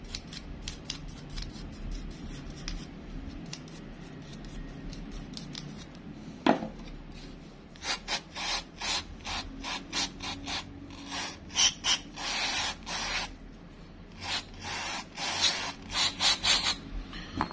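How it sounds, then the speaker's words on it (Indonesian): A part from a 1998 Shimano Stella fishing reel is sprayed and then scrubbed clean, heard as a hiss followed by rapid, close scrubbing and brushing strokes in uneven bursts, with no talking. "Kita semprot, kemudian saya taruh sini. Kemudian kita tinggal gosok sedikit."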